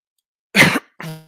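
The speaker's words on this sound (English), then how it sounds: "Oh, I got a cough." Two short coughs close to the mic, the first harsher and broader, the second shorter with a slight throaty tail, separated by a brief pause.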